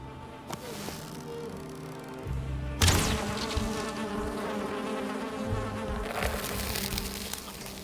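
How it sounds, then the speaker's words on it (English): Bees buzz around apiaries in the Valheim video game, a steady insect drone with sudden louder swells and clicks as game action kicks in partway through. "I think this is probably the bees that I missed last time."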